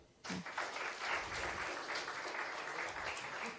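Applause breaks out at an award ceremony for a bursary presentation, dense clapping from an audience in a room that starts abruptly and holds steady throughout.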